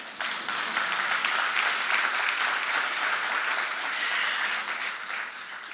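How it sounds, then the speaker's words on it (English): Steady audience applause at a carbon markets conference, a dense wash of clapping from many hands that continues without a break. "Oh, you can clap for me."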